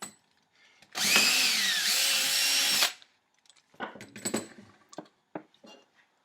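A handheld power drill bores string and ferrule holes through a guitar body, one loud burst of whirring lasting about two seconds, followed by scattered clicks and light handling knocks in a quiet room.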